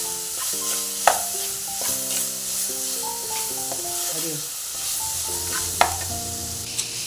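Tomatoes with rock salt sauté in a pan under a steady sizzle, with stirring scrapes and a few sharp utensil clinks over gentle background music.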